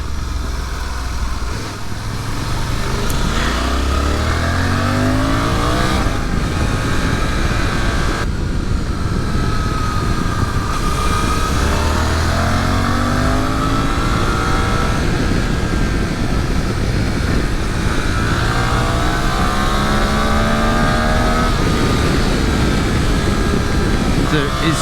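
Suzuki V-Strom 800RE motorcycle accelerating through a tight bend, its engine repeatedly rising in pitch through gear changes under loud wind noise, with a rider talking throughout.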